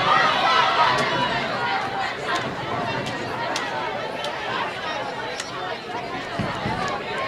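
Dense, steady babble of a large crowd fills a busy NCAA college bowling center during a tournament bracket match, a continuous wash of overlapping voices with occasional sharp clacks and knocks cutting through.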